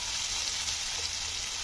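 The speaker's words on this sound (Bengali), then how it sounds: "তো এটাকে দিয়ে ভালো করে একটু কষে নেব" Turmeric and chilli powder sizzle and fry in hot oil in a pan, a steady bright crackling hiss with no talk over it.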